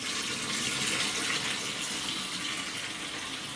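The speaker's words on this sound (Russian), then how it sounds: "Теперь заливаю 40 литров воды." Forty liters of warm water, about 38–39 degrees, pour steadily into a canister for an apple-puree and sugar mash, a continuous loud rushing splash with no break and no voices.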